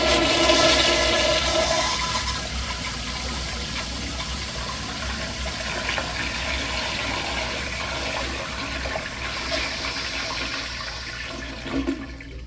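An American Standard Madera 3.5 gallon toilet flushes with a loud, steady rush of water that holds for about twelve seconds, ending in a gurgling drain near the finish.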